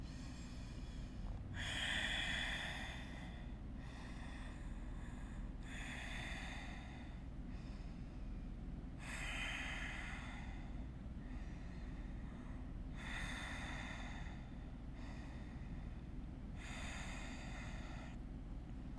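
Slow, deep breaths during a yoga hip-opener pose: about seven long airy inhales and exhales at a steady unhurried pace, fairly faint and close, with no talking over a low background hum.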